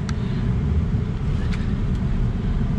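A 2002 Ford F250 pickup truck driving along, heard from inside as a steady low rumble of engine and road noise mixed with wind, continuous with no talking.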